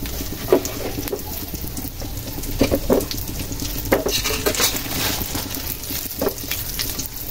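Raisins and nuts fry in ghee over low heat, giving a steady close sizzle broken by scraping stirs and light clinks of a spoon on the pan, with no talking.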